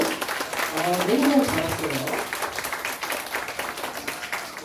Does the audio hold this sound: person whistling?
no